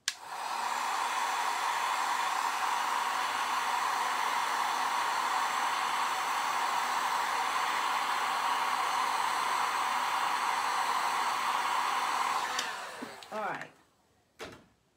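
A heat tool blows to heat-set embossing on a DIY embossed bird, a loud, steady whooshing roar held for about twelve seconds before it switches off with a few clicks and handling knocks.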